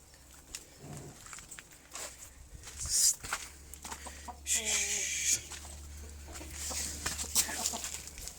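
Chickens and roosters cluck and squawk nearby with a brief rooster call in the middle, over a low steady hum and scattered rustling.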